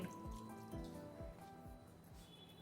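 Water being added to karanji dough flour, heard as a quiet series of evenly spaced drips and small splashes, about five, in a calm setting.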